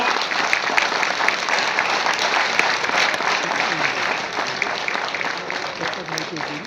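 A hall full of people claps loudly and steadily at an ITI Jamnagar skill-honour award ceremony, a dense, continuous round of applause.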